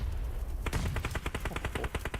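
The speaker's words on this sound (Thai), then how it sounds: "Exis สเปรย์เข้ามาในควันสกาว" Automatic gunfire spraying in a PUBG Mobile esports match, a rapid rhythmic burst of about a dozen sharp shots kicking in after a quiet start, fairly faint and steady.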